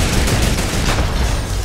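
Rapid bursts of gunfire in a video game, shots aimed at a wall, form a dense, loud, continuous barrage with no pauses or talk.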